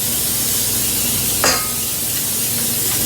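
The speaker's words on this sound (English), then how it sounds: "I'm gonna spray this pan." Cooking spray hisses into a pan in a home kitchen, a steady close spray over constant background noise, with one brief sharper burst partway through.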